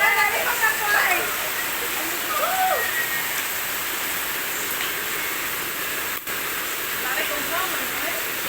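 Rain falling outdoors as a steady broad hiss throughout, with a few faint voices in the background early on.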